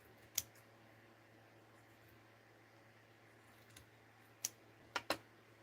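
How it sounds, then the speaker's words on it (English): Scissors snip a strip of rosy gold fabric during slow-stitch crafting, giving one sharp cut early and a quick cluster of three snips near the end, all faint against quiet room hiss. "Just snip it off here."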